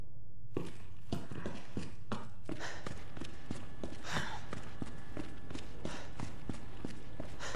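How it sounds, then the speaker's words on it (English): Heavy, steady footsteps of a pursuer in the Resident Evil 2 Remake, a regular thudding stride over a dense game ambience, continuous and fairly close. "Keep on hearing his footsteps."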